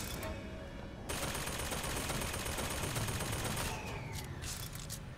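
Dense, continuous gunfire in Bioshock Infinite, a loud sustained burst of rapid shots that fills the clip and tapers slightly near the end, with no talk over it.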